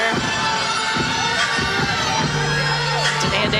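A gymnastics meet crowd cheers and shouts in a steady, lively wash of noise while a gymnast performs her floor routine, with scattered yells and whoops on top.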